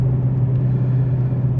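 A supercharged 2019 Dodge Challenger Hellcat idles close by with a strong, steady low-pitched drone and even rumble, loud and unbroken, with no talking.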